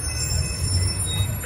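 BNSF commuter train 1211 pulls into Downers Grove station with a steady, close rumble of wheels on rail and a faint high squeal, with no voices.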